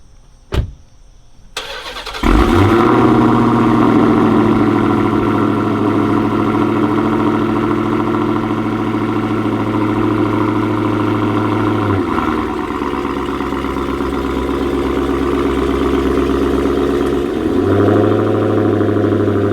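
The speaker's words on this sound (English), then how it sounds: "there's gonna be a close up of Corsa Extreme exhaust" A 2022 widebody Dodge Charger Hellcat fitted with a Corsa Extreme exhaust fires up after a brief mechanical click, then settles into a loud, deep, rumbling idle heard close up, with a short dip around the middle before it steadies again.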